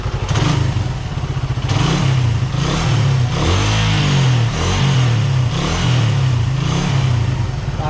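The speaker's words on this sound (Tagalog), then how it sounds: "Pinaandar kong motor" A motorcycle engine idles close by with a steady mid-pitched rumble and rises through a few revs, loud and continuous with no talk over it.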